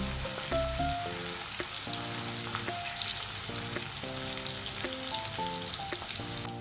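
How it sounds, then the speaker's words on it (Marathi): Chopped onion fries in oil for misal, a steady close sizzle with occasional stirring scrapes under tonal background music, no talk. "कांदा आपल्याला थोडा लाल रंग येईपर्यंत परतून घ्यायचा आहे"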